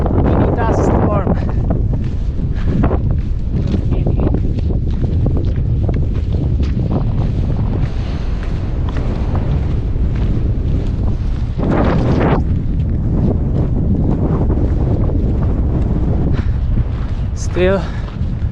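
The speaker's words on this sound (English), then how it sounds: "Mini dust storm." Strong desert wind of a mini dust storm in the Sahara roars continuously into the microphone, with heavy buffeting and gusting throughout.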